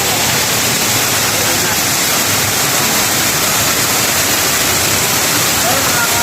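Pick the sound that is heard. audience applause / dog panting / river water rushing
river water rushing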